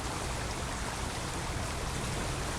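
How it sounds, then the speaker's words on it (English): Steady, broadband rushing of a creek running over rocks, continuous and fairly close, with no other distinct sounds. "the beautiful sounds of that creek running"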